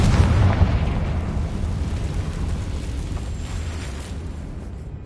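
Confringo fire-spell explosion in Hogwarts Legacy: a loud, close blast opening into a sustained low rumble that slowly fades.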